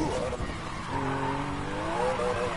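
A car engine revs under a long, wavering tire squeal as the vehicle slides sideways in a video game, loud and close.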